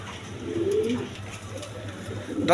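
Pigeons in a Bengali pigeon seller's loft coo softly among low murmuring calls, a steady close background of birds with a brief louder rustle at the end.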